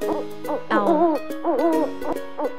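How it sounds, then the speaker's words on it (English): An owl hoots in a quick series of wavering, tonal calls, loud and close with short gaps between them. "O for owl."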